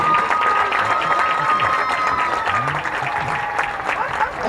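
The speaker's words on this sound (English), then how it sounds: "How about another round of applause, Addison Wilson." A crowd in the stands at a high school football game applauds during a homecoming recognition, sustained clapping with a few cheers and a PA-style voice faintly in the mix.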